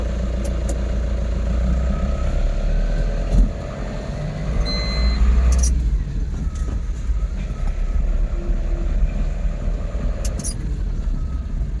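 Loaded truck carrying potatoes, a diesel engine rumbling low and steady as it pulls away, with brief clanks and high beeps scattered over the continuous drone.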